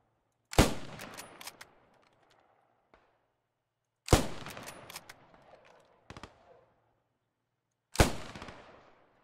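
Three sharp sniper rifle shots in the Post Scriptum video game, spaced a few seconds apart, each a loud crack with a long echoing tail fading into near silence, no voices.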